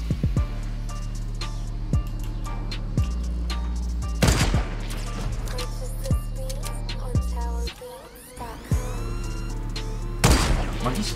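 Gunfire cracks repeatedly in Fortnite Battle Royale, sharp separate shots spread across the clip over steady game ambience, with a louder burst near the end.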